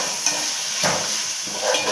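Chopped tomato for biryani frying in hot oil, a steady close hiss and sizzle with a few soft stirring bumps, no one speaking.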